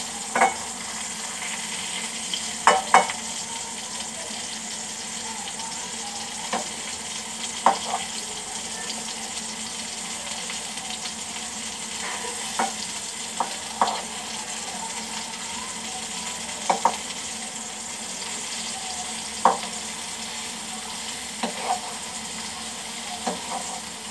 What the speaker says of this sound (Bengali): পটলগুলো আগে আমি ভেজে নিব।